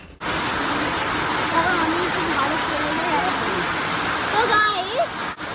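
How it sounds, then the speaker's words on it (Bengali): Heavy rain pours during a Durga Puja outing, a loud, constant outdoor downpour hiss throughout, with voices talking over it. "দেখো এইরকম ঘুরছি আমরা, কি মারাত্মক বৃষ্টি।"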